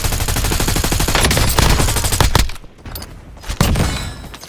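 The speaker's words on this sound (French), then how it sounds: "On me tire dessus" Call of Duty: Warzone gunfire on Rebirth Island blasts out as loud, dense automatic bursts with sustained machine-gun rattle, briefly dropping away before more shots resume near the end.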